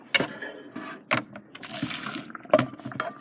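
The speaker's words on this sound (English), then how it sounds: "pour into the colander, run the cold water and drain the pasta" Pasta water poured into a colander at a kitchen sink, irregular splashing bursts and trickles with sharp spikes, moderately close and uneven over a few seconds, with no talking.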